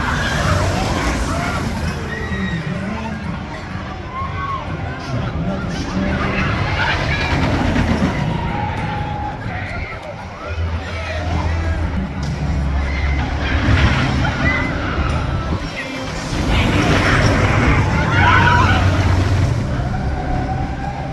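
A front-row-two ride on the Fahrenheit roller coaster at Hersheypark, with loud rumbling and rattling of the train on track mixed with riders' voices and rising screams that swell and fade.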